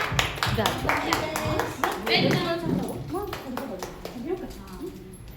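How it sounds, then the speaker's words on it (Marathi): An audience at a massage-bed therapy session claps to welcome a woman guest: a burst of scattered hand claps, fairly close, mixed with people talking over them. "सगळ्यांनी टाळ्या वाजवून मॅडमांना बोलवा."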